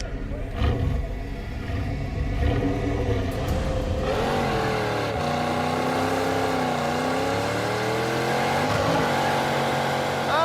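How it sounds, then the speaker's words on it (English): A Trans Am with a dead flywheel revs hard while its clutch slips, the engine roaring loud and close as its pitch climbs, wavers and sweeps up again over a steady mechanical drone. "The clutch is spinning. The clutch did not hold."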